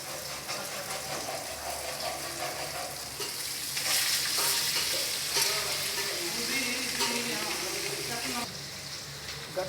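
Masala curry sizzles and fries in a pan while it is stirred firmly, a steady close crackle with scraping stirs that grows louder midway and runs continuously under a low background hum.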